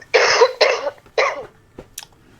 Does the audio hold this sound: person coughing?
yes